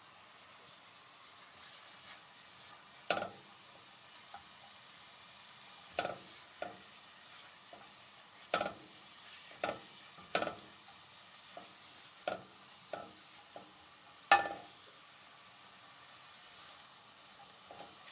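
Curry sauce with fresh curry leaves sizzles steadily in a pan, with a soft constant frying hiss broken by irregular scrapes and taps of a spoon being stirred through it, quiet and close.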